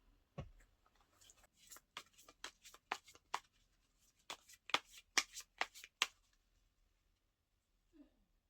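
Tarot cards shuffled for a reading: a run of quick crisp riffling snaps and flicks, close and fairly clear, thinning out toward the end with a faint soft touch near the finish.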